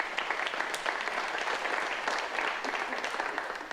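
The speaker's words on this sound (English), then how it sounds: "I think that deserves a round of applause from you guys" A church congregation applauds after a donation announcement, steady dense clapping filling the room for the whole stretch at moderate level, with no voices standing out.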